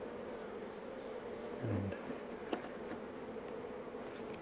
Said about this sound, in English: a massive amount of them just come flying in